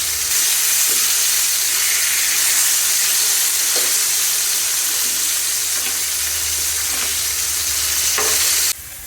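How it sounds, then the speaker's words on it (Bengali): Fish heads frying in hot oil give a loud, steady sizzle and hiss, close up, broken by a few soft clicks of stirring. The sizzle drops away abruptly just before the end. No one speaks. "এখন মাথা ভাজার জন্য দিয়ে দিয়েছি, মাছের মাথা ভাজার জন্য দিয়ে দিয়েছি"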